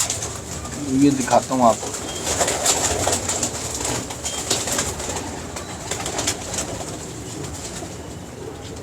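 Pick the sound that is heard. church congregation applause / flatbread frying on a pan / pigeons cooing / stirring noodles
pigeons cooing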